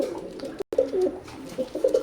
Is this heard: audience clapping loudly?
no